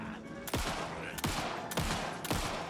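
Gunfire in Alan Wake 2: four sharp, loud shots spaced roughly evenly about half a second apart, each with a short ringing tail, over a low game-ambience bed.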